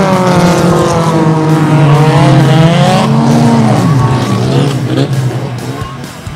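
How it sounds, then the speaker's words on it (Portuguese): Dirt-track race cars at a Bahia state speed championship roar loudly and continuously, their engine pitch rising and falling as they rev and pass, easing off slightly near the end. "Era chegada a hora de ouvir o ronco dos motores."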